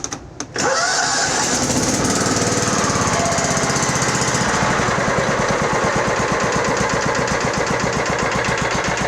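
A John Deere STX30 riding mower's small engine cranks briefly, catches and settles into a loud, steady, close idle with a fast even putter that runs unbroken to the end.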